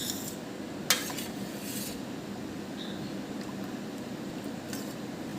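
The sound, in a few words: gently stirring grapes to remove their skins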